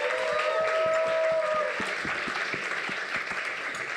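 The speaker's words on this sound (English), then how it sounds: "Let's have a round of applause." Scattered clapping from a small seminar audience, fairly brief and moderate in level, with a voice and background chatter over it.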